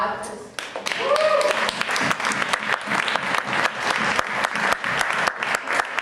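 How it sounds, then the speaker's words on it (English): Crowd applause for Ahmad at a Springfield Pride gathering, a dense steady clatter of many hands clapping close by, with a few sharp individual claps and a brief cheer rising early on. "round of applause for Ahmad"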